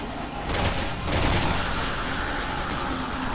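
Rapid gunfire crackles in Resident Evil 6 as a submachine gun is fired, with dense overlapping bursts and booms in a loud, continuous barrage.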